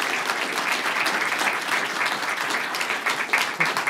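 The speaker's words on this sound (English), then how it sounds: "Can we give them a round of applause?" Audience applause at a tech summit in Canterbury, steady dense clapping from a large crowd that keeps up for the whole span with no talk over it.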